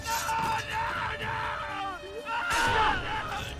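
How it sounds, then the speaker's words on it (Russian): A character in Assassin's Creed screams loudly and drawn-out over continuous game sound, the yell wavering and swelling again toward the end, loud and close with no clear talk. "Как же эта сука кричит громко."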